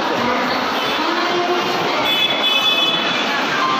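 Broad, steady roar of a busy Howrah railway station where long-distance trains depart, with rumbling trains and crowd murmur, a faint whistle-like tone rising briefly midway.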